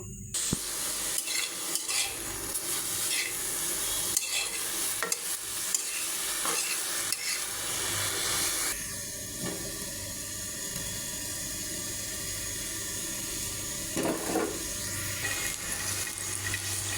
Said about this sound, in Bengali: এখন শাকটা আমি বাগান দেব